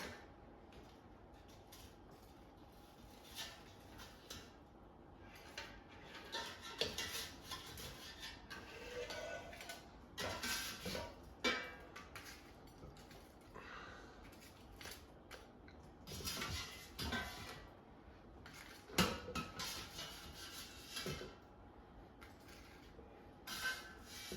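Air-fried breaded green tomatoes are lifted out of an air fryer basket, giving faint, intermittent clinks, scrapes and soft clatters of utensils and basket spread over a quiet stretch.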